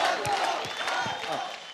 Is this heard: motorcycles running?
no